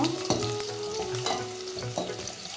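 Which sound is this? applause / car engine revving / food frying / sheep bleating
food frying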